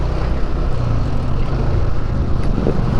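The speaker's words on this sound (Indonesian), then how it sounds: "Lihat-lihat dulu kan ada motor lewat ya." A steady, loud motor rumble fills the scene as a motorcycle passes on a road during a morning commute, its engine noise continuous and broadband with no speech over it.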